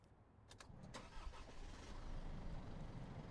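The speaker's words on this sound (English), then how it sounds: "Now start the engine." An Isuzu N-series or FTR truck's diesel engine cranks with a few quick starter bursts, then catches and settles into a low, steady rumble at a fair distance, fairly quiet overall.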